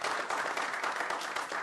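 Steady applause from an audience, a brief burst of many hands clapping at once.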